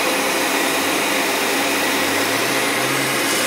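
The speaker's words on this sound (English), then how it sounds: "That's a heat gun, all right." Heat gun blows steadily during repair of an outboard tilt motor, a loud, close, continuous airy roar without pauses.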